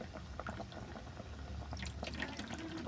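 Water sloshes and drips faintly and steadily as washed pumpkin flowers are lifted out of a bowl of water, with a low hum underneath.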